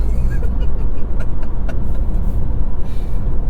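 A 2024 Mazda CX-90 plug-in hybrid's engine runs in charge mode, a steady low drone and road rumble filling the cabin with no letup.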